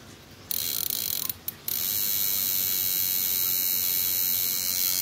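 A homemade PDC inverter circuit built without an IC for stunning fish runs with a steady, loud electrical buzz and hiss, briefly interrupted by a couple of short dropouts before settling into a continuous drone.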